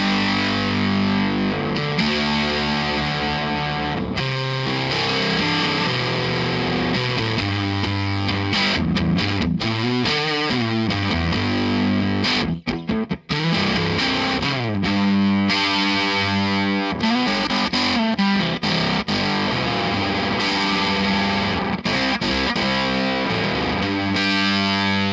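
Guitar played through a Big Foot Engineering Octo Puss Prime fuzz octave pedal, giving a thick, buzzy, synth-like fuzz; continuous loud riffing and sustained notes with octave overtones, no talking.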